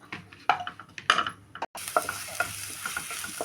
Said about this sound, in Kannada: ಸ್ವಲ್ಪ ಎಣ್ಣೆಯಲ್ಲಿ ಸ್ವಲ್ಪ ಈ ಥರ ಕಲರ್ ಆಗಬೇಕು ಕಲರ್ ಬರಬೇಕು